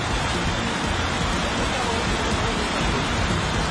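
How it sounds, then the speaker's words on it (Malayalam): Heavy rain falls in a dense, constant hiss with no pauses, loud and even throughout. "ഇവിടെ ഇപ്പൊ മഴയാണല്ലോ, ശക്തമായ മഴയാണല്ലോ."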